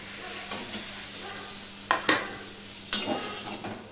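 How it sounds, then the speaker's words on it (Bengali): Tomato frying with ginger in a pan for a vegetarian pumpkin recipe, a continuous hiss and sizzle broken by several scraping stirs of a spatula, close and loud with no speech. "টমেটোটা দিয়েও আমি নাড়তে থাকবো। টমেটোটা যতক্ষণ না নরম না হয় ততক্ষণ পর্যন্ত।"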